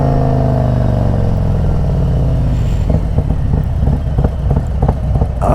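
A Harley-Davidson Road Glide motorcycle on a short ride home, its engine a loud, close, steady rumble that grows rougher and more pulsing partway through, with no talking.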